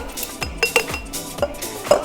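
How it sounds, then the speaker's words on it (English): Ice poured from a glass into a cocktail shaker, a few bright clinks and clatters of cubes striking metal and glass, close and brief with quiet gaps between. "go ahead and grab your shaker and your glass of ice and pour that right in"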